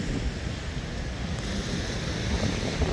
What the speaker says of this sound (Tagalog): kita naman ninyo ang hampas ng alon mga kaaraw.